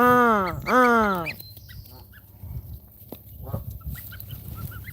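A person's voice imitates a low goose call to bar-headed goslings with two loud, drawn-out honking calls, followed by faint, scattered peeps and soft rustling.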